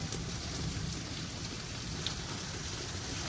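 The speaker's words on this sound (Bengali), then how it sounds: "দেখুন কীভাবে বৃষ্টি হচ্ছে না দেখলে বুঝতে পারবেন না" Heavy rain pours down beside a roadside house in a steady, dense, unbroken hiss that fills the whole stretch, loud and close, with no voices.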